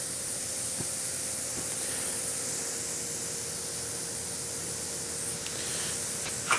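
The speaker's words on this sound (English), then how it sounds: "We're going to take some shallots, put those in. I'm just going to sweat those down." Shallots sweating in butter in a steak pan give a steady, even sizzling hiss that holds at a constant level throughout, close and unbroken, with no talking over it.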